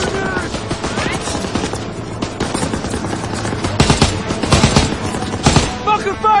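An MG pillbox in a Call of Duty: WWII battle pours out dense, loud bursts of machine gun fire, continuous rattling fusillades with shouted voices mixed in.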